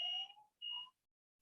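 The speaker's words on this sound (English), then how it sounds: "we have a fire alarm" A fire alarm in a building sounds two short electronic beeps, the second after a brief pause, followed by silence, moderately faint with no talking.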